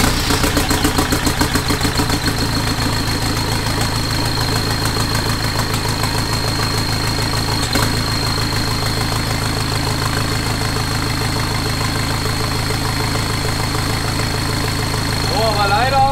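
Diesel engine in a converted Suzuki Samurai SJ running at a steady idle, a close, continuous rough mechanical thrum with a pulsing knock, lasting throughout with no talk.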